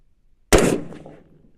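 A single sharp report from an AR15 rifle chambered in 6ARC, firing a 103gr Hornady ELD-X load over 29 grains of powder at a 100-yard range. One loud crack bursts after a brief quiet, then rings out and decays over about a second.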